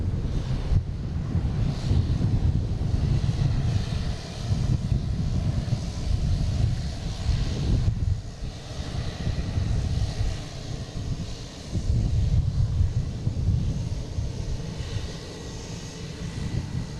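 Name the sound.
Airbus A330-300 jet aircraft at Boston Logan airport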